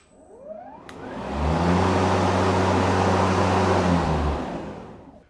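An Ego LM1914ESP electric lawn mower starts up with a soft click, and its motor and blade spin up into a steady, close, smooth whirring hum that holds for a few seconds before winding down.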